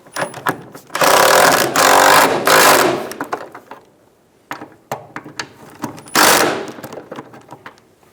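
A ratchet snugs down the trailing arm bolts on a 2000-2007 Ford Focus in loud, close bursts of rapid clicking, separated by short pauses and single clicks.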